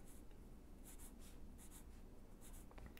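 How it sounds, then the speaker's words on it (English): Pencil sketching on paper while touching up cartoon lines before inking, soft close scratchy strokes in short repeated bursts over quiet room hiss. "Just fixing up some of my pencil lines before I go to ink."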